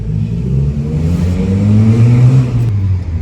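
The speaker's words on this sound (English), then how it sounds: "I'm gonna give it a bit of gas right here." First-generation Nissan Versa, 2006–2012 hatchback, accelerating at half throttle, its engine droning loud and close with a steadily rising pitch over road rumble, no voices.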